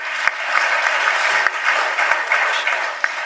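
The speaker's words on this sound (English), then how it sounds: "Let's give him a round of applause." A conference audience at a software infrastructure event gives sustained, even applause, a dense wash of many hands clapping close and loud throughout.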